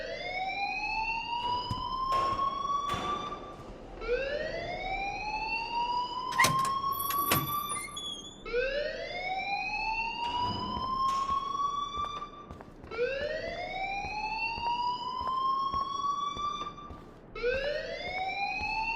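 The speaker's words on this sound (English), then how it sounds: "please turn off that alarm since that's your job" A wailing fire alarm in the video game Life Is Strange sounds in repeated rising sweeps, loud and continuous throughout, with a few sharp bangs mixed in.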